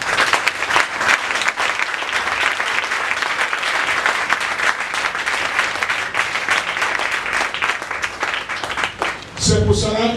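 Church congregation at a Sunday anointing service breaking into loud sustained applause and cheering acclamation, a dense wash of clapping with a voice rising at the very end.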